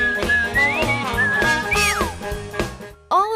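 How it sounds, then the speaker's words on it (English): A melodic whistled tune carries the Cartoon Network theme song, sliding up and down over jazzy piano, horns and drums in a busy, loud mix that drops out briefly before a final whistled swoop. "the theme does contain vocals in the form of whistling"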